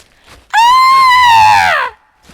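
A single loud, sustained high-pitched scream lasting over a second, rising then gently falling before cutting off, with near silence on either side.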